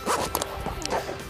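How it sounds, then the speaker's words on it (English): A zipper on the rear window of a Bestop soft top on a 2011 Jeep Wrangler JK Unlimited is drawn along in a few quick close rasping pulls, with short pauses between. "Starting on the right-hand side of the window, follow the zip around."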